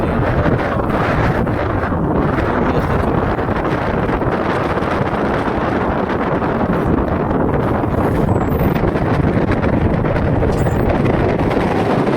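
Steady wind roars across the microphone during a boat ride on a river, with a constant broadband rush and a low rumble that hides most other detail, and no clear talk.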